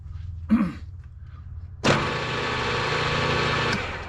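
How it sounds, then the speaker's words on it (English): A 9/64 drill bores through a machined cylinder head, starting with a brief knock, then the drill motor whirs up sharply and runs steadily for about two seconds before stopping. "I got a 9/64 drill here. I have to drill all the way through."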